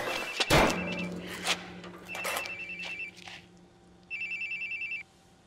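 An electronic telephone ring trills briefly, after a loud thump and some clattering, with a couple of ring bursts spaced apart.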